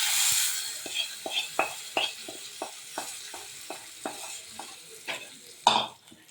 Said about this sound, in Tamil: இப்போ வந்து தாளிப்பு வந்து சட்னிக்கு மாற்றிடுவோம்.